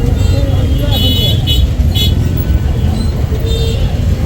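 A jammed city road in Bangladesh, heard from a rickshaw, carries a loud constant rumble of engines with several short car horn toots scattered throughout, close and dense.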